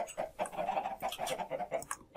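Chickens in a Minecraft game cluck in a quick, steady series of short calls, fairly close and alone without talk.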